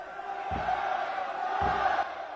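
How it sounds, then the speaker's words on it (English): A crowd at a women's ice hockey final in Ladakh keeps up a sustained cheering roar, with two low thumps cutting through, loud and close throughout. "as the crowd builds the countdown, 4, 3, 2 and beyond"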